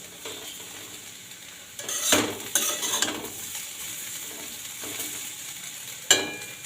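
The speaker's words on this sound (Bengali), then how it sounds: "এই আলু ভাজছি" Potatoes frying in a pan, a soft steady sizzle with several louder scraping stirs and clatters, the sharpest near the end.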